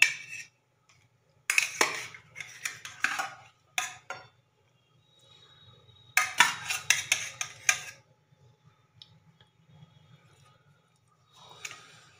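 Fish going into a pan for doi mach, a Bengali yogurt fish curry, with a few separate clusters of clattering metal-on-pan knocks and scrapes, close and moderately loud, separated by quiet stretches and no voices.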